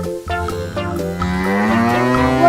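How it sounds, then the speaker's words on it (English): A cow moo plays from a farm animal sound puzzle toy, one long, loud, sustained low moo with rising harmonics that holds steady for the full stretch with no talk over it. "Which animal sounds moo? Cow."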